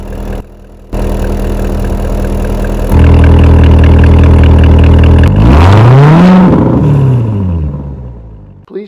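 A 2019 Chevrolet Corvette ZR1, a 755 hp supercar, cold-starts with a short starter whir and a loud rising bark that settles into a deep, steady, close idle with no talk over it.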